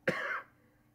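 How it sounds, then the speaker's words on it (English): A single close cough from someone speaking on a live stream, sharp onset with a short raspy tail, alone in an otherwise quiet moment. "I'm going to cough again."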